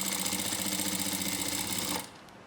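A sewing machine runs close and steady while stitching a thin kurti drawstring, a dense rapid chatter that stops abruptly after about two seconds.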